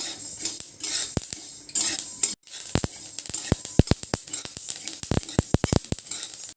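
Flax seeds are dry-roasted in a pan and stirred with a metal spoon, producing sharp, irregular scraping and clinking strikes against the pan over a soft, dry rustle of moving seeds, close and alone.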